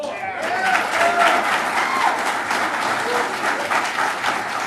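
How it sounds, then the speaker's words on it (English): Loud, dense audience applause at a political candidates' forum, continuous and sustained throughout without a break. "can I remind the audience to keep your applause till the end?"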